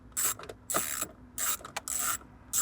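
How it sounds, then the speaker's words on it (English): A 10mm socket ratchet with an extension loosens the bolts around the factory radio in a 2010-2013 Lexus GX, a close clicking ratchet in several short bursts with brief pauses. "Reach in here with a 10mm socket and an extension."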